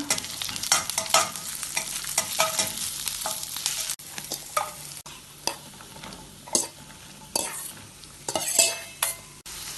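Cut turnip fries in a pan with ginger, garlic and sliced green chilli, a close sizzle broken by repeated scraping stirs of a spoon against the pan.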